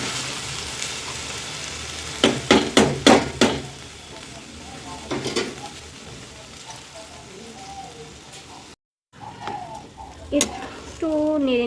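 Vegetable biryani stirred in a pot just after water is added, with a quick run of loud scraping strokes followed by softer bubbling and sizzling, a brief silent gap, then more stirring, close by.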